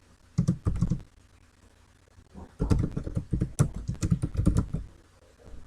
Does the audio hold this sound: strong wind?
no